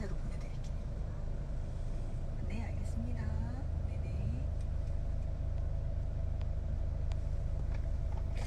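A car's interior rumble while driving, a low steady road drone throughout, with someone talking over it.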